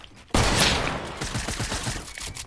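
Loud, close burst of rapid gunfire during a one-on-one shooter video game match, erupting suddenly and continuing as a rattling string of shots with no talking.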